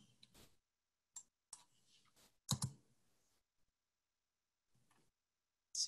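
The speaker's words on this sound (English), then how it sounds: "You would click OK and you would click Save." Computer mouse clicks on a quiet desk, a handful of sharp isolated taps spaced irregularly across a few seconds, close and crisp with near silence between them.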